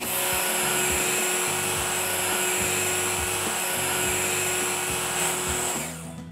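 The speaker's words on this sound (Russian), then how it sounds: "Итак, друзья, начинаем перебивать картофель." A blender purees raw potatoes with a little carrot and plenty of onion into batter for mini potato pancakes, giving a steady, loud motor whine with a churning low rumble that runs continuously before easing off at the very end.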